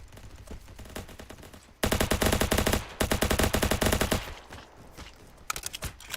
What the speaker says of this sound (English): Bullets whizzing past my face.